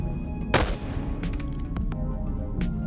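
A gunshot headshot in the VR game Labworks, a Boneworks mod: one sharp loud shot followed by a few fainter cracks over steady background game noise.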